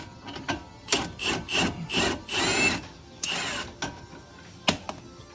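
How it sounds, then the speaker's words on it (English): A bolt is worked through a Lexus IS250 shock mount in a series of close, quiet metallic scrapes and rubbing bursts, followed by a few sharp clicks and taps. "push the bolt through"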